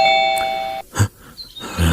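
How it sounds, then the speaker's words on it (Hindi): An electronic doorbell chimes with a sustained ding tone, followed by a brief pause and a soft knock-like thump nearby. "डोरबेल बजाती है"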